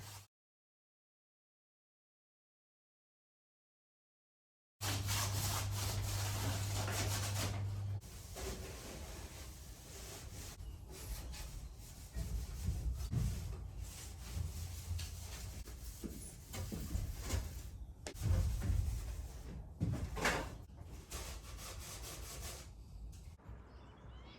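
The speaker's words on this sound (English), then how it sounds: "I'm just going to sand this roof vent, and then I'm going to do the rust converter on it." Sanding a rusty roof vent on a vintage caravan, with steady rough rubbing strokes that continue close up after a silent opening.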